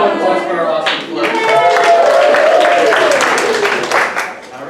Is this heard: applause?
yes